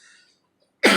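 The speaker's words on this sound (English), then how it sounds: "cough." A single sharp cough bursts out loud and close at the very end, after near silence.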